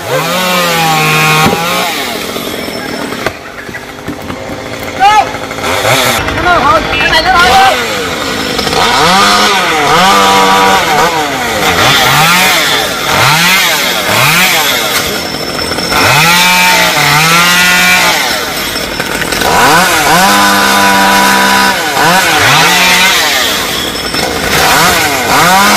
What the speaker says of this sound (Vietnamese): tranh thủ cưa nhanh luôn.